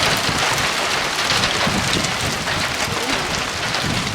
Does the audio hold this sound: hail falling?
yes